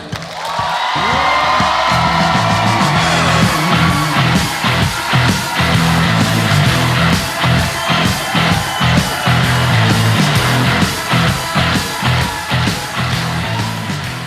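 A studio audience at a Ukrainian comedy show bursts into sustained applause and cheering, with dense rapid clapping, shouts and whoops filling the room loudly for the whole stretch.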